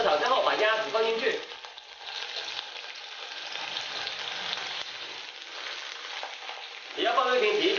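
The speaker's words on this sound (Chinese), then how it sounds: "料头炒香后把鸭子放进去" Duck pieces fry with aromatics in hot oil in a wok, giving a steady close sizzle with stirring, louder bursts at the start and end.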